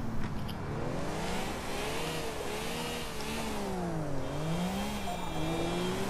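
A car engine in GTA IV revs and whines steadily, with its pitch rising and falling as it accelerates in a game race, heard continuously and fairly loud without speech.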